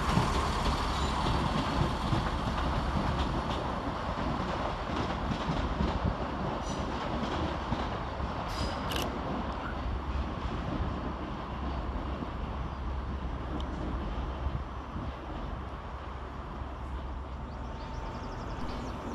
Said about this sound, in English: Next train out to depart is 17432, working the 1449 ScotRail service to Glenrothes with Thornton via Cowder Beef.